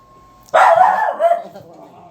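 A puppy lets out one loud, close bark that trails into a short whimpering yip, with faint room hum before it.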